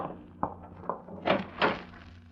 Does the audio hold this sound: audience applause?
no